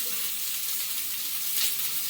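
Onions added to a hot pan for pasta: a brief, close, steady sizzling hiss that swells slightly near the end.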